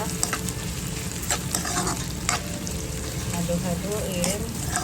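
Chicken gizzards stirred in a hot pan for adobo, a steady scraping stir over a continuous close sizzle, with a few sharper clinks of the utensil against the pan.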